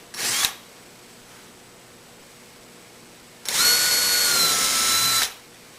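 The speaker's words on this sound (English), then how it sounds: "it's always important to drill pilots so that you don't spread the wood too much" A power drill whirs in two bursts while drilling pilot holes in wood for desk carcase assembly, a quick short one and then a longer, steady spin of about two seconds, close and loud.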